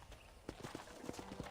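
Horse hooves clip-clop at a steady walking pace in a Western ranch setting in the video game Red Dead Redemption, light rhythmic clops over soft background ambience.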